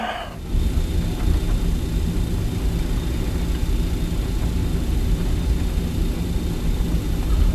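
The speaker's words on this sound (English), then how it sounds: "So APU is coming on." A BAe 146-300 auxiliary power unit in a flight simulator game spools up after a brief start, settling into a loud, steady broadband whine and rumble that holds evenly throughout, with no voices.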